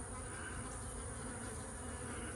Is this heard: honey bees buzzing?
yes